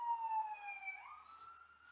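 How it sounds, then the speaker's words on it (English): A fire truck siren wails at a distance from a nearby fire station, its pitch sliding down and then rising again, faint against quiet indoor surroundings. "Not sure if that fire truck and siren is coming through."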